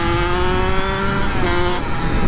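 A Kawasaki KX85 two-stroke dirt bike accelerating hard, its loud, buzzing engine note close and continuous as it climbs through the revs with brief dips between gears.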